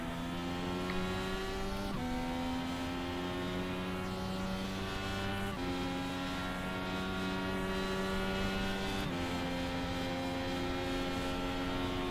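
IndyCar engines drone loudly and continuously at the start of a race at Kentucky in the iRacing simulator, the steady buzzing pitch climbing through gears with abrupt drops at each shift, with no talking over it.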